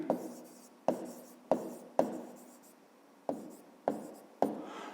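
A pen scratches across paper in short bursts, seven separate strokes of writing, each starting sharply and trailing off, close and quiet with no talking.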